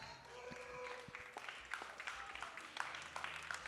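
An audience at a tattoo expo trophy ceremony in Menton claps for a second-place prize winner, a fairly faint, scattered applause with some sharper individual claps standing out toward the end.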